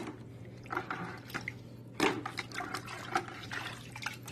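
Bio balls from a SunSun 704-B canister filter rinsed in water, with repeated splashes, trickles and clinks in an irregular rhythm over a low steady hum, close and moderately loud.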